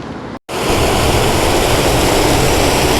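Water gushes from a project pipe into a village pond, a loud, dense, unbroken roar that starts after a momentary cut and fills the whole stretch without voices.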